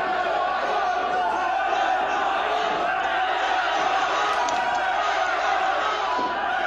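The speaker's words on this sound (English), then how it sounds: "The crowd is chanting, let him fight," Arena crowd at a wrestling event chanting and roaring steadily as two wrestlers are held apart, a dense continuous wall of voices throughout.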